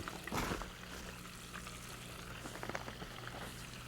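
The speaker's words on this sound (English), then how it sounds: "They're frying pretty good." Oysters and crabs fry in hot grease, a steady close crackling sizzle with a brief louder burst near the start, then an even bubbling hiss continuing alone.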